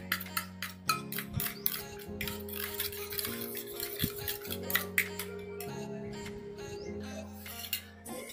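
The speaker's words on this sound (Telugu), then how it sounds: "దీన్ని బాగా మిక్స్ చేసుకోవాలి." Aloe vera gel and turmeric are stirred into a face pack paste in a small bowl. A spoon clicks and scrapes against it again and again in an uneven rhythm, close up and with no talking.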